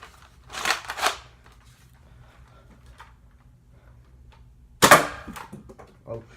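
A Nerf Roughcut blaster fires foam darts in two sharp bursts, the first a pair of quick snaps and the second a louder, crisp pop a few seconds later, with quiet room noise between them.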